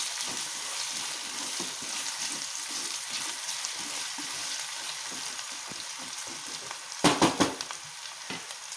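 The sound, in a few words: potatoes and onion sautéing with salt in a pan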